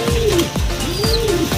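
A racing pigeon coos in repeated low, rolling phrases, close and clear, with a faint higher chirp from another bird in the background.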